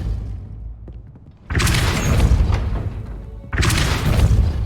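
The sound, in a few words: Depulso spell blast in the video game Hogwarts Legacy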